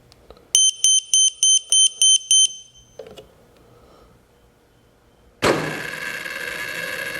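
Spektrum radio transmitter sounding a rapid series of seven short, sharp electronic beeps during receiver binding, followed by quiet handling noise and then a loud, steady broadband hiss or whir that continues to the end.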